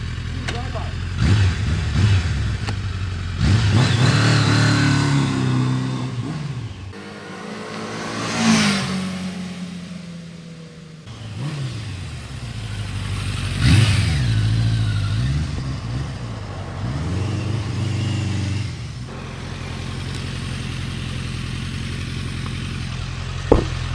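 A 1984 Kawasaki Ninja ZX900 (GPZ 900) motorcycle accelerates hard on an open road, its engine note climbing through repeated rising sweeps as it shifts up, loud and close amid steady wind rush.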